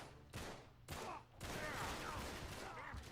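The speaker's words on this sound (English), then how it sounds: "I recommend bringing the micro Uzi and you can shoot these 2 guys that come after you" Micro Uzi bursts in the video game Uncharted 3, a few quick rattling volleys of automatic fire, moderately loud and close, with game noise running between them.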